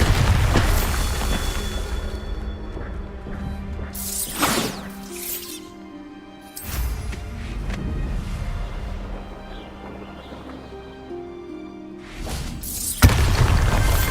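Bombarda blasting spell going off in Hogwarts Legacy, a series of deep booming explosions with crackling debris and bursts spread across the clip, loud over a game soundscape, with a sharp final blast near the end.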